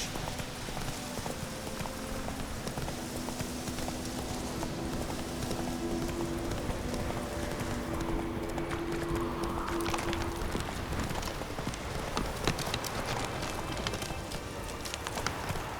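Horse hooves clip-clop steadily in The Witcher 3 video game, a continuous trotting rhythm heard close up over a busy bed of ambient game sound and music, with no voices.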